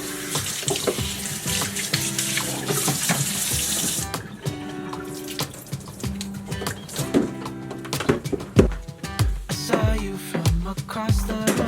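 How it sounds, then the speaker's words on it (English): Tap water streams into a coffee maker's water tank being rinsed in a kitchen sink, a steady rushing splash that shifts in tone as the tank fills and moves, close and continuous with no voices. "So I like to rinse out the water tank and wipe up any grounds that get stuck in the lid."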